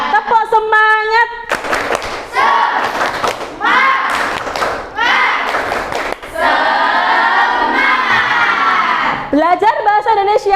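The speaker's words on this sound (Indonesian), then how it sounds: "Kita tepuk semangat lagi ya. Oke, tepuk semangat." A group of students in an Indonesian-language classroom performs a rhythmic patterned clapping chant: bursts of claps and thumps in a set pattern under loud chanting and shouting voices, with pauses between the phrases.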